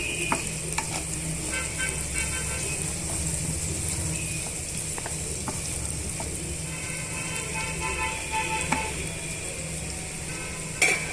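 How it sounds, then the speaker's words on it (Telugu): Vegetables and egg are stirred together with salt in a hot frying pan for an egg dish, giving a constant close sizzle broken by clinks and scrapes of the spoon, with no voices. "సాల్ట్ వేసుకున్న తర్వాత ఇవన్నీ కూడా బాగా మిక్స్ చేసుకుందామండి"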